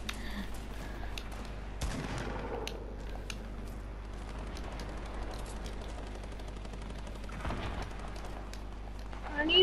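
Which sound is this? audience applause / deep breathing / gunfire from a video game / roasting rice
gunfire from a video game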